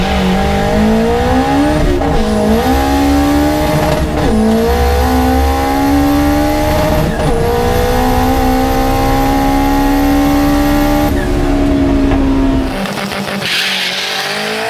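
A 650-horsepower drag race car with a Honda K-series engine accelerates hard down the strip, its loud, continuous engine note climbing in pitch through several quick gear shifts before dropping away near the end.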